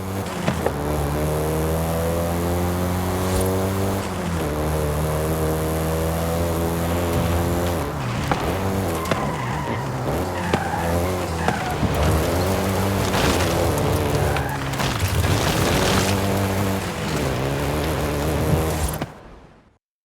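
A Volkswagen Golf GTI drives in the video game Forza Horizon 5, its engine a continuous, loud droning tone with shifting pitch and road rush, cutting off abruptly at the end.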